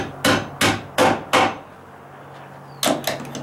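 Nails driven with a hammer into a metal joist hanger on a wooden deck ledger board: four sharp, evenly spaced strikes, a pause, then two more quick blows, close and loud.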